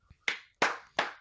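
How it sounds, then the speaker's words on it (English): One person claps three crisp, evenly spaced times after a faint tap, each clap sharp and close with a quick decay and no voices. "starts clapping."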